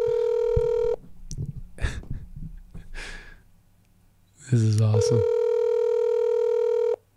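Ringback tone of an outgoing phone call sounds as two long, loud, steady electronic tones, separated by a stretch in which a person speaks and sighs.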